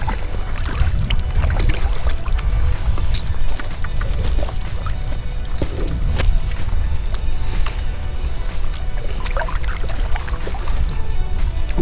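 A small paddled boat moves along Adams Creek, with loud, close, continuous water swishing and splashing, occasional drips and knocks, and a rough rushing background throughout.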